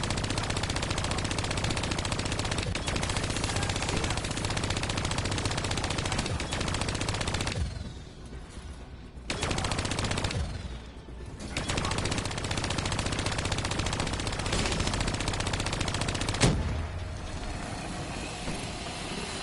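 Sustained, loud automatic gunfire from a Call of Duty Black Ops 3 campaign battle, dense and continuous with two brief lulls partway through, then a sharp blast before the firing resumes.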